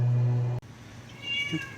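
A cat meowing in a garage: one loud, drawn-out meow that breaks off abruptly, followed by quiet background noise and a faint later chirp.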